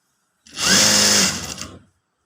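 A sewing machine stitching lining to the main cloth of a katori blouse, one close continuous motor whir running about a second and a half, then stopping.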